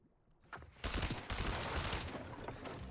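Rapid gunfire bursts in the video game Fortnite, a fast rattling stream of shots that starts after a brief quiet moment and keeps going densely to the end.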